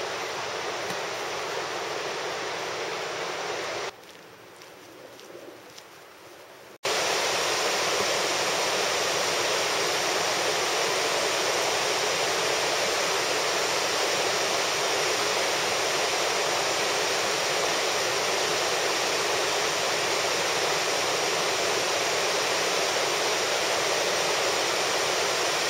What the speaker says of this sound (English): We're headed down to the falls to check out the Wallace Falls.